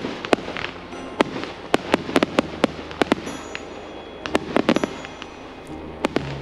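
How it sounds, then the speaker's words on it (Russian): Festive fireworks close a village celebration of a church's fifth consecration anniversary in Annino, with sharp, irregular bangs and crackles popping at moderate distance over a quiet background. "Завершением дня стал праздничный салют."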